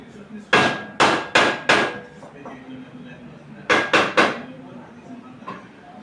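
A metal pan of brinjal (eggplant) fry being lifted off a stove, giving two clusters of sharp, loud metallic clanks and knocks, four then three, with a quiet lull between.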